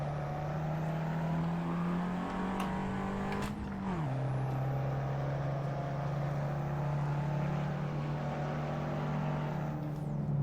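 A car engine holds a steady, loud drone on a hill climb in the Assetto Corsa driving game, pitch rising slightly before dropping after a shift around the midpoint, then holding high revs again.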